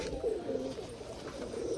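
A jam pigeon coos close by in soft, low, repeated throaty phrases over a quiet background.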